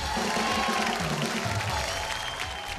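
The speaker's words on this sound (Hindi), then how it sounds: "जोरदार तालियों से स्वागत कीजिए ग्रैंड फिनाले में पहुंची 4 मेम साहबों के" Audience applause and crowd noise greeting four finalists at the grand finale of a women's TV contest, a steady, dense wash of clapping that carries through the whole stretch, with some voices mixed in and a low hum beneath.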